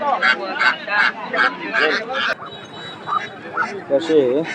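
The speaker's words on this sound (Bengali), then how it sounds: "অনেকগুলো হাঁস কিন্তু নিয়ে আসছে" Ducks quack loudly and repeatedly at a rural market in Haluaghat, several birds calling close by in bursts, with people talking in the background.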